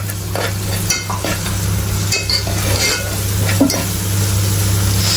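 Crushed garlic stirred and frying in oil in a pan for mutton curry, with continuous sizzling and repeated spoon scrapes and light clinks against the metal throughout.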